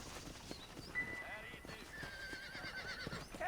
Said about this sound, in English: Here's your horse, friend